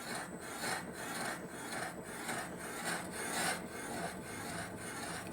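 Valve seats on a Cosworth cylinder head are cut with a hand tool in a steady rhythmic rasping scrape, about two strokes per second, close and fairly quiet.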